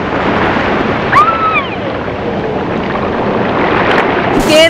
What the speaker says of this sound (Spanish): ¡Ahí viene el agua! ¡Ahí viene el agua!